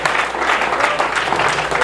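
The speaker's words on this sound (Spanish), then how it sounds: "Un aplauso fuerte a ese Dios maravilloso." A church congregation claps loudly and steadily during an evangelistic campaign service. The applause is close and continuous, filling the whole short moment.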